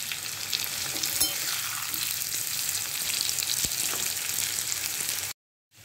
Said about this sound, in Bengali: পেঁয়াজ কুচি দিয়ে আমি আরও 5 মিনিট পেঁপে আলুটা ভেজে নেব।